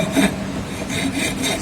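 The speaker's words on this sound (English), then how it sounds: "we have to apply the wood rasp file for removing smaller parts from the workpiece" A wood rasp file scraping a wooden workpiece in a carpentry shop, with a few short, close rasping strokes in an uneven rhythm.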